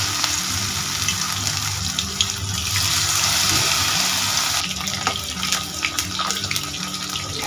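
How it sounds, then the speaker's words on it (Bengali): Soybean chunks fry in hot refined oil in a wok, a dense continuous sizzle and hiss with crackling pops, close and loud, with no voices. "এইবার এই তেলের মধ্যে সয়াবিনগুলো দিয়ে ভেজে নেব।"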